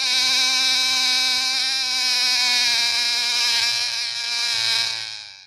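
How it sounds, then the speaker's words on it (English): A buzzing bug on a vintage children's vinyl record, a loud, steady, raspy drone that holds for several seconds before fading slightly at the end, with no voices over it. "What kind of a bug do you suppose makes a sound like that? Can you buzz like that too?"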